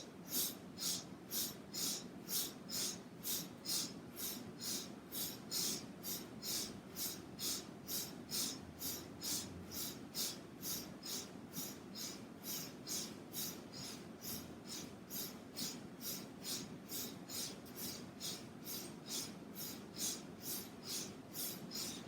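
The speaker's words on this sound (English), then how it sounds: "You're breathing in and out through the nose," Loud, rhythmic breathing in and out through the nose during a mindful stretching routine, a steady cycle of raspy, hissing inhales and exhales repeating roughly every second, close and alone with no talk.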